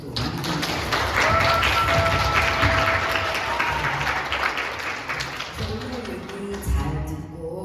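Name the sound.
audience applause for guest speakers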